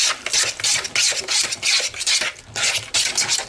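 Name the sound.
mixing butter into batter with a fork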